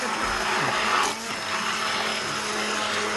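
A kitchen blender blitzes butternut squash soup with a loud, continuous whirring roar close by. The motor pitch dips briefly partway through, then carries on steadily.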